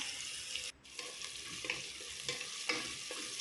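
Chopped onions and a large tomato sizzle in oil in a pan for mint pulao while a spoon stirs them, with soft scraping strokes and clicks over a constant frying hiss, close by and with no talk.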